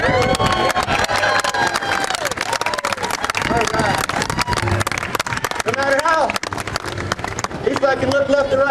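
An outdoor crowd at a Helldorado gun-spinning show in Tombstone, Arizona claps rapidly and loudly in a dense, continuous burst, with scattered cheers and a voice rising above the clapping near the end.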